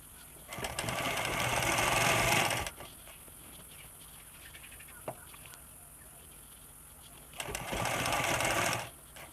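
A sewing machine stitches elastic onto fabric in two loud, steady runs of a couple of seconds each, separated by a quiet pause holding a single faint click.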